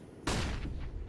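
Gunfire in the CS:GO video game on the Vertigo map, shot through a tarp at a competitive match, one sharp loud burst followed by a brief rattling decay.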